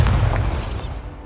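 A Bombarda spell blast from the video game Hogwarts Legacy, one loud close boom with a deep rumbling body that fades quickly within about a second.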